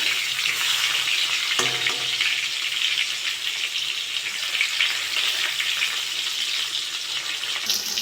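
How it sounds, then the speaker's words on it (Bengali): Pointed gourd (potol) pieces fry in hot mustard oil with a constant close sizzle, and a brief utensil clink sounds early on. "আমি উল্টে পটল ভালো করে ভেজে দেবো"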